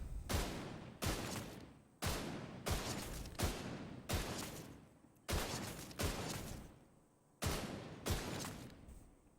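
A Big Horn exotic rifle fired scoped in within The Division 2 video game, about nine heavy booming shots at a steady, roughly one-second rhythm, each with a long decaying echo, loud and alone.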